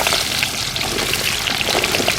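Chopped shallots sizzling in hot oil with cinnamon, cloves and fennel while cooking a Tamil prawn fry, a steady, dense crackling fry throughout.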